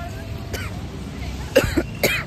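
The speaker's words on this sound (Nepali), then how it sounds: "खोकी लाग्यो" A few short, rough coughs, two louder bursts near the end, over a low background hum.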